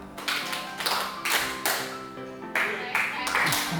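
Classroom students clap their hands in short counted bursts during a clapping game, sharp close claps in quick groups of two to five, with a teacher's voice speaking between the rounds.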